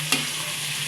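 Chicken pieces for adobong manok sizzle and crackle in a hot frying pan, a steady close hiss with a brief stirring scrape near the start.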